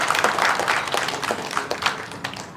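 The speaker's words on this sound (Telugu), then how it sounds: "మీకు hearty congratulations and big applause ఇవ్వండి" Audience applause at a Women's Day special event, steady crowd clapping carried evenly throughout, fairly loud and without pause.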